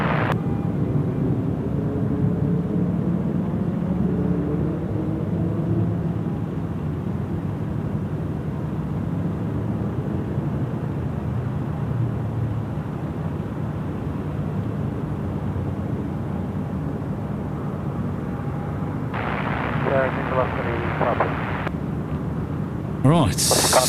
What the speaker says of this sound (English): Qantas 1990, runway 34 left. clear for takeoff.